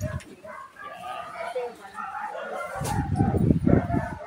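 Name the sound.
dogs barking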